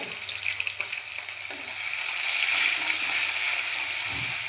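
Chopped onions and whole cumin seeds frying in hot oil for a lentil kofta curry, a steady close sizzle that swells louder and denser midway, with a soft low rumble underneath and no voices.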